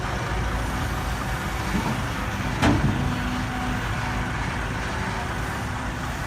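A six-wheel dump truck idles at a pond-digging site, its diesel engine giving a steady low rumble with a brief sharp hiss or clank midway, moderately loud and without voices.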